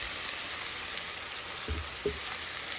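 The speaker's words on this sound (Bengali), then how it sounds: "পিওর সরিষার তেল পরিমাণ মতো দিয়ে দিচ্ছি শাকের মধ্যে" Pure mustard oil meeting cooking greens in a hot pan gives a steady, close frying sizzle that hisses throughout, with a couple of soft low bumps from stirring partway through.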